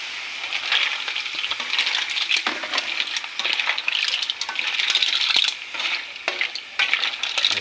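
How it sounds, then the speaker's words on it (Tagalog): A pot of seafood with shrimp and crab boiling, bubbling and crackling steadily, with dense sizzling pops and a brief clatter or two, close by and without speech. "kumukulo na po siya"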